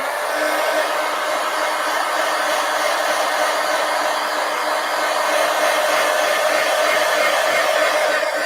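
Hair dryer blowing on a 24x36 collage poster, a loud, steady whoosh and motor whine running unbroken the whole time, close by with no talk.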